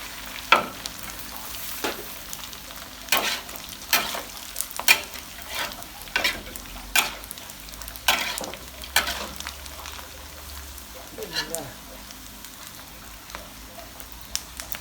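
Salted pork frying and being stirred in a pan, with a steady sizzle under repeated scraping and clattering strokes, about one every second, close up and with no talking.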